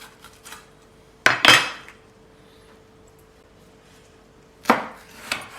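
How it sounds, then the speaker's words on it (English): Red capsicum, halved and de-seeded, being coarsely chopped with a knife: two short bursts of blade striking a board about three seconds apart, close and fairly loud, with quiet gaps between. "and we're just doing it a coarse chop"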